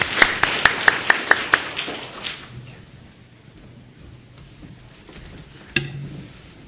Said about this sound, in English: So I think it deserves a round of applause.